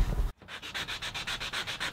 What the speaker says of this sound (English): we're gonna jump right to the sanding